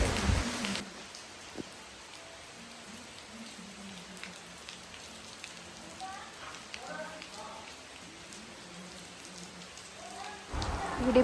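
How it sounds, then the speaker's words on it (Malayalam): Steady heavy rain pours down as a continuous wash of noise, with faint indistinct voices and a few brief sounds in the background. "ഇതിൻ്റെ ഇടയിൽ ഇപ്പോൾ ഇവിടെ നല്ല മഴയും പെയ്തിട്ടുണ്ട്."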